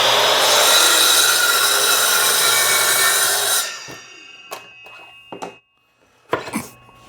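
A saw rasps through hard rosewood in a loud, rapid back-and-forth stroke for several seconds, then stops, followed by a few quieter scattered taps and knocks.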